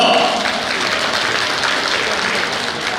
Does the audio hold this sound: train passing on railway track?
no